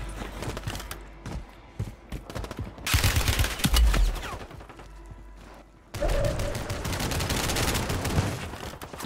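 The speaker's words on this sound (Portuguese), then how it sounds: "Eu tô cantando um tiro aqui, não sei nem da onde." Gunfire in the video game Call of Duty Warzone: repeated bursts of rapid automatic shots and volleys, some quieter and farther off, others loud and close, with brief pauses between stretches of shooting.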